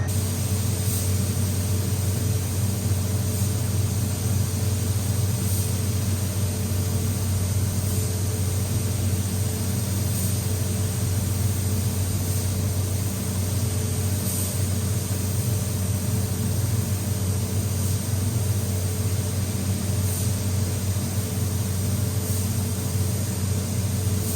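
A spray gun lays a wet base coat of Awlgrip paint on a boat deck, giving a continuous, even hiss over a steady low compressor hum that runs unchanged throughout, with no voices.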